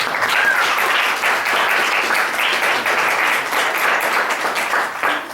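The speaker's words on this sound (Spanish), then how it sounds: "voy a pedirles un fuerte aplauso para Gustavo, por favor." A large audience applauds at an astronomy talk on the life of stars, with dense, steady clapping that stays loud and continuous throughout with no voices on top.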